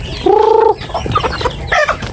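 Chicks and hens cluck nearby: one drawn-out call, then a few short, scattered clucks, with no talking.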